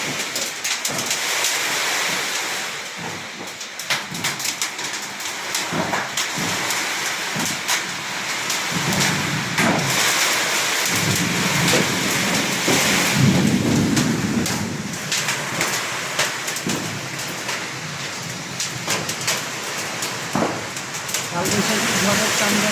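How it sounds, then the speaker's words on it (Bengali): A Kalbaishakhi nor'wester storm with hail and thunder brings heavy, steady rain pouring across the whole stretch, with rumbling swells and gusty surges partway through. A voice murmurs prayers underneath now and then. "কালবৈশাখী ঝড়ের তাণ্ডব চলতেছে।"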